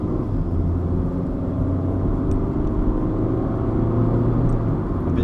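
A car engine pulls steadily as it accelerates and short-shifts up through third and fourth gear, heard as a continuous, even droning hum from inside the cabin with no talk.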